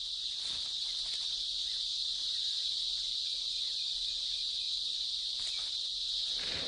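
A loud, steady, high-pitched buzzing drone of cicadas continues without a break, with faint background noise beneath.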